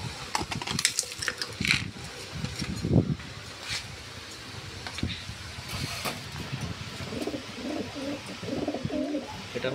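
Fancy pigeons kept for sale, including Lahore types and racer pairs, coo softly at close range with repeated low, throaty calls and a few faint clinks and rustles around them.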